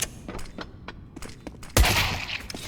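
Decoy grenade in CS:GO faking gunfire: a series of sharp, evenly spaced gunshot pops over game ambience, then a louder blast burst near the end.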